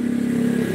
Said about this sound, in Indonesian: jadi motornya selip, dikopling jalan terus